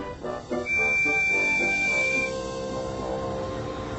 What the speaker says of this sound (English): They were bumping trucks and blowing their whistles.